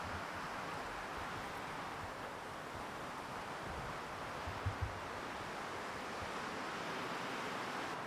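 Strong wind sweeps across a mountaintop, a steady broadband roar that stays even and close for the whole stretch, with no voices.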